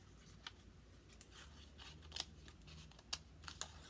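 Several crisp, scattered snips of scissors cutting junk mail paper, close by and fairly quiet, with no talking.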